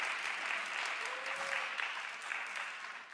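A church congregation claps together in dense, sustained applause, filling the room evenly for a few seconds at moderate distance.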